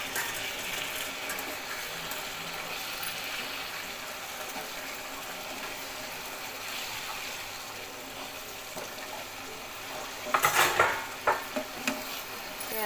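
Soya chunks and peas being stirred in hot oil in a pan, a soft steady sizzle and scraping running throughout, with a louder burst of clattering stirring near the end.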